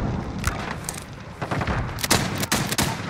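Sporadic gunshots and bursts crack in a Call of Duty: Modern Warfare match, sharp reports spaced irregularly and moderately loud, with no talking.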